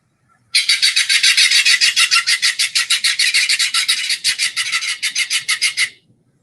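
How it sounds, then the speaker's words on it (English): Ridgway's rail, also called clapper rail, giving its clapping call: a long rapid series of harsh, evenly spaced rasping claps, loud and close, running steadily for several seconds before stopping abruptly. "their call sounds like a series of sort of consistent grunts or claps"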